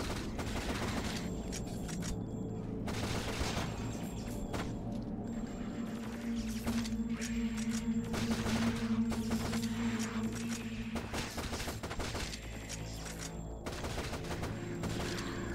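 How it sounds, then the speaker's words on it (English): Sustained rapid gunfire from enemies fills a top-down shooter game, Shadowgrounds: Survivor, with dense overlapping bursts and metallic clatter running steadily throughout over a constant game background. "Whatever's shooting at me sure is trying."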